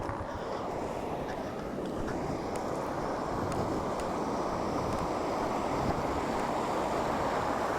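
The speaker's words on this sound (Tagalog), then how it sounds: "Lakas ng agos." Strong river current rushes loudly and steadily along the Mabanbanag river between Vintar and Piddig, Ilocos Norte, a dense continuous roar of churning water with wind buffeting the microphone.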